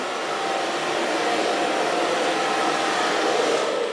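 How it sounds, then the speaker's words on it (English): A hair dryer fitted with a diffuser blows steadily on curly permed hair in a salon, a loud continuous airy whoosh with a motor hum throughout. "Now so far blow drying with the diffuser, she did mostly herself."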